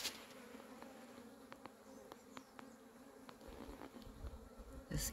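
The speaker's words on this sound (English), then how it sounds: "I hope you can hear the normal buzzing of the balloon hive." A steady, low insect hum from honeybees at a recently moved hive, continuous and fairly faint, with a few brief clicks and taps over it.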